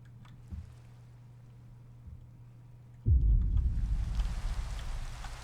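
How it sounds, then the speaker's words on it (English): Rain in Minecraft with the Enigmatica 2 modpack, a quiet low hum at first, then a sudden heavy rumbling downpour swells in and stays loud, with a dense hiss of falling rain. "Alright, enough is enough. Stop the rain."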